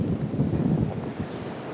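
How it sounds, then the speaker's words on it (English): Steady wind gusting outdoors during a workout session, a broad rushing roar with low buffeting against the microphone, continuous and fairly loud with no talk. "Added wind, giving that added challenge."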